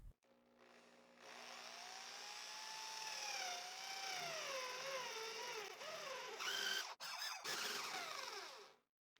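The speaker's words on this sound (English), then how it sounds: "I'll drill using this 35mm Forstner bit" A drill with a 35mm Forstner bit bores into wood with a steady, whining grind that wavers in pitch as the bit cuts, close up, ending with a few sharp knocks.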